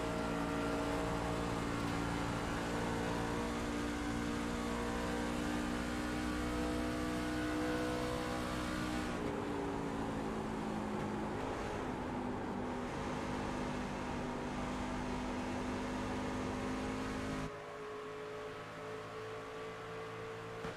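A race truck engine heard onboard at Darlington in a sim racing game, droning steadily and loudly at high revs with a slowly shifting pitch and a brief lift, and nobody talking.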